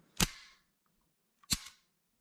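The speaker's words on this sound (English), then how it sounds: "Slide back, lock it, pull your little trigger, lock everything in." A Beretta 92X Compact pistol being reassembled gives two sharp metallic clicks about 1.3 seconds apart, close and clear, with brief ringing after each and silence around them.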